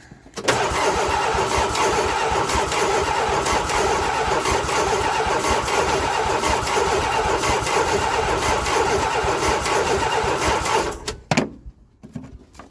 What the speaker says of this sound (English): one of the goals is to get it cranking. And it's cranking.